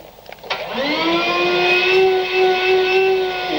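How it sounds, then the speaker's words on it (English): A small cordless handheld vacuum whirs up to speed in a workshop and holds a steady, high-pitched motor whine, loud and close. "it's a cordless vacuum cleaner."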